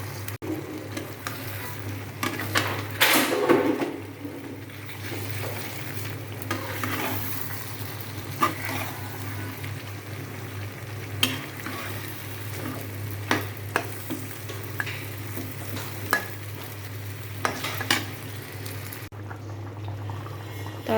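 Chicken frying in spiced masala in a pan, a low steady sizzle and bubbling with occasional stirring scrapes and clinks, close and moderately quiet throughout.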